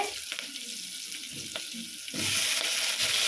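Vegetables sauté in a pan for sambar, a close steady frying sizzle with scraping stir strokes, turning into a louder, brighter hiss for the final second.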